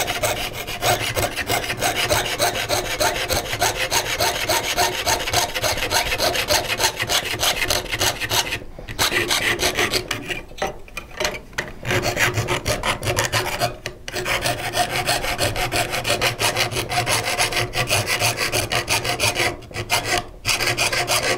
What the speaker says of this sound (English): Coming back to my main line, crossing it, sawing on the inside.